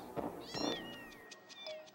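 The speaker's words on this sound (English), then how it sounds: "Good mama cat." A cat meows in the horror video game Amanda the Adventurer 2, with several short, close meows following one another, then a thin high tone and quieter mewing near the end.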